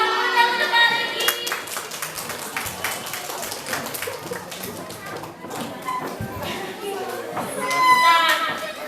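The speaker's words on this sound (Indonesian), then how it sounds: "Tepuk tangan dulu yang untuk Bang Regi." Children at an elementary school legal awareness session clap for a visiting speaker, a dense burst of many small hands mixed with chatter and excited voices, swelling louder toward the end.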